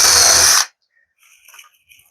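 A short, loud whir of a power drill driving screws into a wall stud for a French cleat wall stops abruptly, followed by a near-silent pause with faint scattered clicks.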